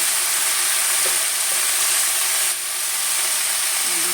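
Green chillies fry in hot oil with fenugreek greens in a pan, giving a steady, loud broadband sizzle throughout with a few faint clinks and no talking.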